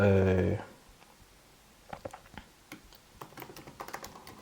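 Keys clack on a computer keyboard as a search keyword is typed, a light irregular patter of taps following a short burst of speech.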